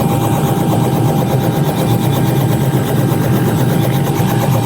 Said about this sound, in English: Is that a fucking helicopter?